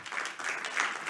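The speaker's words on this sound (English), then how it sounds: "please give a big applause for Carla Roos" Audience applause for a speaker at a university Studium Generale lecture, a steady dense patter of many hands clapping with no talk over it.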